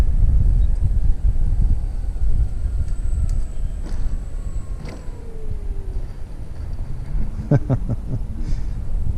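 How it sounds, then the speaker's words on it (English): Wind buffets the microphone at an RC warbird airfield, a steady loud rumble that runs throughout, with faint distant tones from aircraft and a few short clicks near the end. "the wind shifted down the runway again, so it made it a little bit easier"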